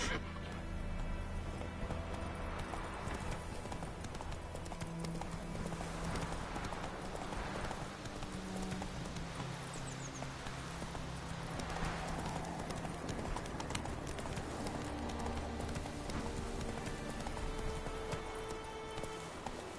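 Roach the horse's hooves clip-clopping at a steady walking rhythm in The Witcher 3, a continuous string of clear hoof beats over a constant rainy, windy ambience, without talking.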